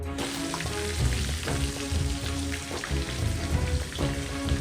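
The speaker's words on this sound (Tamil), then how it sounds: "இப்போ இந்த சந்திரகலாவெல்லாம் நம்ம ஃப்ரை பண்ணி எடுத்துக்கலாம்." Chandrakala sweets deep-fry in hot oil in an iron kadai, giving a dense, steady bubbling sizzle with scattered crackling pops, close and constant throughout, with no talking.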